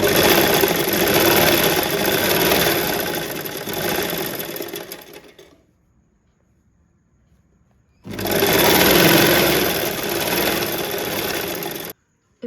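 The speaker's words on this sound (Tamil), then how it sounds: "ஃபர்ஸ்ட் நம்ம ஹெம் வந்து டபுள் ஃபோல்ட் பண்ணி ஸ்டிச் பண்ணிடலாம்." A sewing machine stitches a double-folded hem on a kids' box pleat skirt in a loud continuous run, pauses for a couple of seconds of near silence, then resumes and stops abruptly.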